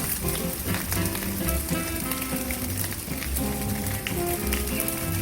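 Pineapple fried rice stir-frying in a pan with oyster sauce and fish sauce, giving a steady dense sizzle with clattering of a spatula or wok throughout, close and continuous.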